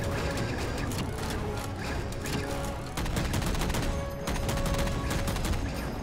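Dense, continuous gunfire in Halo 4 from The Master Chief Collection on PC, aimed at a Banshee aircraft, rattling steadily and loudly without a break, with faint mechanical noise beneath.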